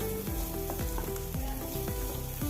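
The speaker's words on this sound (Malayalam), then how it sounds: "ഇനി ഇഞ്ചി ഇട്ട് കൊടുക്കുക നല്ലപോലെ ഒന്ന് ഇളക്കി കൊടുത്ത്" Ginger sautéing in a pan for a drumstick-leaf chutney, a continuous sizzle with repeated scraping strokes of a spoon stirring it, steady and close.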